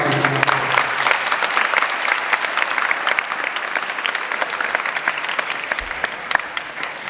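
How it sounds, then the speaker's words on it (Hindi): School students in a Jain religious gathering break into sustained applause, a dense, steady wash of many hands clapping at full volume for about seven seconds. "हाँ, इनके सम्मान में ताली बजाओ।"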